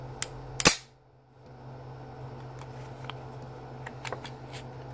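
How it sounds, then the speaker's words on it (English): A pistol slide, dragging on the magazine, is bumped forward into battery with one sharp, close metallic click, followed by a few faint small clicks against a quiet room hum. "So I can bump it into battery."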